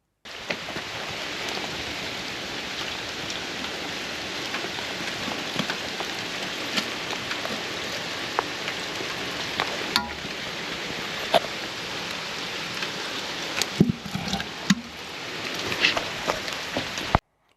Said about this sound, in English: it was raining and I got absolutely soaked